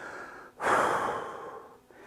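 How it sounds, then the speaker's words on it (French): A long, deep inhale and exhale during a hockey training workout, a broad breathy rush that swells suddenly, holds for about a second, then fades, heard close and alone. "On respire. Des grandes respirations."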